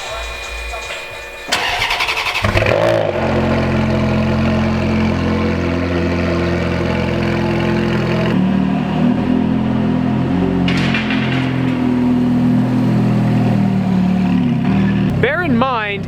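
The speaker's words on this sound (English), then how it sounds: "This is the F430 Spider. We gonna get a cold start up?" A Ferrari F430 Spider cold-starts with a sudden loud burst after a short quiet moment, then holds a strong, throaty idle with revving swells and a late sharp blip, close by, with voices briefly audible.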